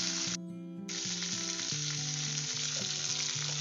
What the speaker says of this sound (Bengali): এবারে এগুলো হালকা একটু নুন হলুদ দিয়ে ভেজে নিচ্ছি